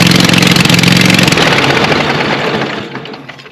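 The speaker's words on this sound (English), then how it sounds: "Man, I need to fix that exhaust leak." A Scag Cheetah riding mower engine runs loud and close with a harsh, rapid popping rattle from an exhaust leak, then winds down and fades toward the end.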